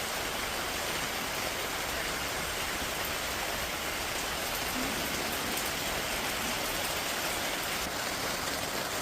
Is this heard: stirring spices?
no